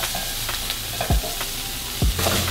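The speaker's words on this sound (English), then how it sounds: "Add this to the pan where the beans are gonna go in." Beans being added to a hot pan and stirred with a small spatula, giving a steady close sizzle broken by a couple of soft scraping knocks against the pan, with no talking.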